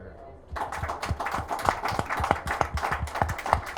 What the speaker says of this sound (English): Let's all give ourselves a round of applause for being here